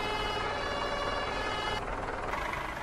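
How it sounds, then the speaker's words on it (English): Fire engine siren sounded at an airport fire station in a firefighting video game, a loud continuous wailing tone that shifts pitch partway through, heard alone without talk. "Let's give the siren a blast."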